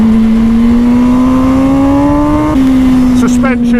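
A 2020 MV Agusta Brutale 1000 RR, a 208-horsepower super-naked motorcycle, revs loud and close with a steadily climbing engine note, then a short shift dip and wind buffeting near the end as the rider talks over it.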